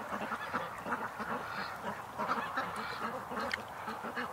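Ducks on a creek give repeated nasal quacks and honks, a loose flock calling at close to middle distance in short overlapping bursts, with no speech.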